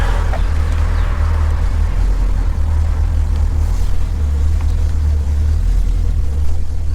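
A 1964 Buick Riviera that had sat for about a year, driving along with a loud, steady low engine rumble and drone that holds evenly throughout.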